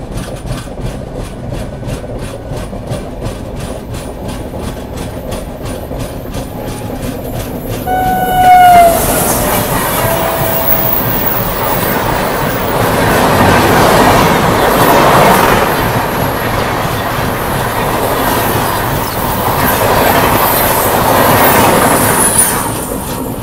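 The Patalkot Express passenger train rolls along the rails, a loud steady rumble with rhythmic clatter, a horn-like tonal blast partway through, then heavier roaring and squealing wheels as it keeps running close by.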